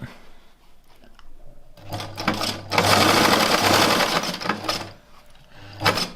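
Sewing machine stitching a custom shift boot (gear stick cover), running in loud steady bursts of rapid needle hammering with a low motor hum, pausing briefly between runs.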